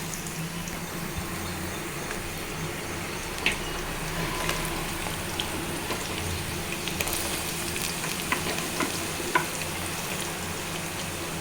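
Bitter gourd pieces fry in a cup of hot oil for a Telangana-style fry, a steady close crackling sizzle with occasional sharper pops and light stirring taps, no speech.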